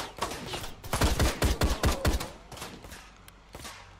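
Rapid bursts of gunfire from the video game Ride to Hell, a cluster of sharp loud shots about a second long followed by a few scattered fainter shots.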